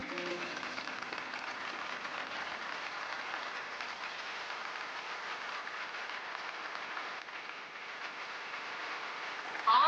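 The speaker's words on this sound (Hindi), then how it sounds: "तालियों से स्वागत कीजिए प्लीज" A television show audience applauds steadily to welcome a show stopper on stage, a continuous, even hiss of many hands clapping that holds at a moderate level for nearly ten seconds.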